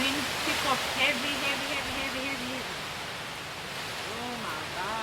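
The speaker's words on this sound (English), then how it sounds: "It's more wind than rain." Heavy Hurricane Ian wind in Southwest Florida roars as a constant, dense rush of noise, steady and close throughout, with faint vocal sounds buried in the gusts.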